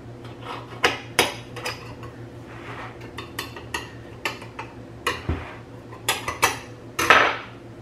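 A knife trims rhubarb pie crust edges around a pie pan with handles, making a quick series of light metallic clicks and scrapes at an uneven pace, close by.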